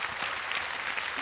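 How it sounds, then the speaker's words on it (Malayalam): A comedy show audience applauds steadily and loudly, a dense wash of many hands clapping at once with no pauses. "ഓക്കെ, നല്ലൊരു ക്ലാപ്പ് കൊടുത്തേ."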